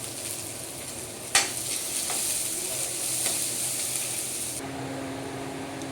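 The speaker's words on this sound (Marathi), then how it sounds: "खूप सारा कांदा छान परतून घ्यायचं आहे" Chopped onions with cumin and garlic frying in a pan for besan pitla, giving a steady, close sizzle with a single sharp clink of a spoon early on and no talking.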